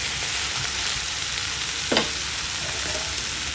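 Brinjal pieces frying in a covered pan on medium flame make a steady, dense sizzle with one short scrape or clink partway through, close and without talk.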